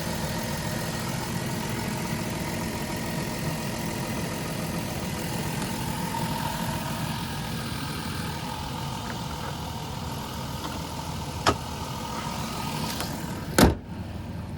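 A 2005 Chrysler Town and Country Limited with a 3.8 liter V6 idles steadily, a constant low engine hum close by, with a couple of brief clicks near the end.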